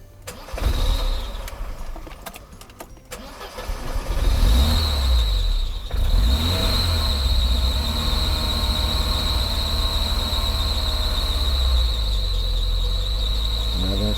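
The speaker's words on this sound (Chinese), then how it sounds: "大哥来发动引擎" An engine running on an external fuel tank cranks and catches, then settles into a steady loud idle with a whining tone, close up, with a brief voice near the start.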